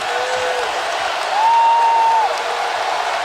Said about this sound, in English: This crowd is really fired up, man.